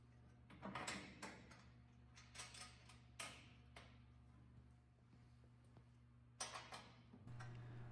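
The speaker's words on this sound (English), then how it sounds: "A last tightening of these bolts with a 17mm hex wrench" A 17mm hex wrench tightening bolts on a rotary axis channel, heard as a few quiet metallic clicks and ratcheting scrapes spaced apart over a low steady hum.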